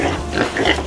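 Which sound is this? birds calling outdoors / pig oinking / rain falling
pig oinking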